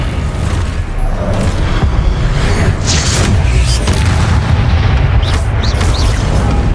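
Spell blasts from Confringo in Hogwarts Legacy, a video game, go off as a steady barrage of booming explosions amid dense combat noise, with several sharp bursts standing out near the end.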